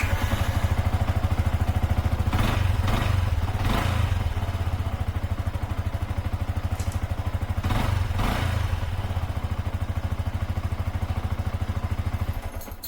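A Yamaha R15 motorcycle engine runs close and steady, a continuous mid-pitched putter with a couple of brief louder bursts and clattering, then the engine cuts off at the end.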